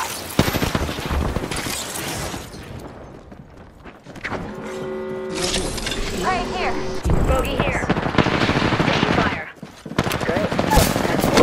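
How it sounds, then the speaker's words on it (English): Gunfire in the video game Apex Legends: loud rapid bursts of automatic fire separated by pauses, with tonal game effects in the middle and players talking throughout. "Taking fire"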